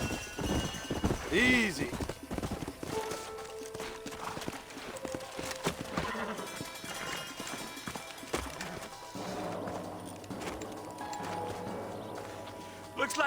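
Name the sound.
horses in video game Red Dead Redemption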